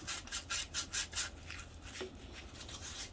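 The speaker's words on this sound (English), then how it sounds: "So this one's got some rust on it, just like the last one. So I'm going to de-rust it with my emery cloth." Emery cloth scrubs rust off a metal flange on a Harvey Spooner KD80 front end: about six quick, rhythmic rasping strokes up close, then lighter, fainter rubbing.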